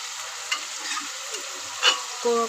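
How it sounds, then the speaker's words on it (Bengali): Spice masala frying in a pan while being stirred, a continuous close sizzle with a few brief scraping strokes of a spoon. "মশলাটা আমার কষা হচ্ছে।"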